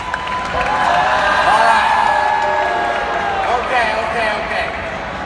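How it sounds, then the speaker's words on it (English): A live audience at a T Gray iBüümerang training session breaks into applause, cheers and whoops, a sustained crowd roar that swells early and tapers off, with a voice briefly speaking over it. "Give yourselves a round of applause for thinking about getting an iPhone."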